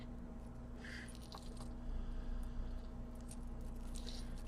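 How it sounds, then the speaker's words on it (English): Small metal key charms for a beaded charm necklace jingle and clink softly in short bursts near the start and again near the end, faint over a steady low hum. "And then I've got one more key, because apparently keys and locks are the theme for me tonight."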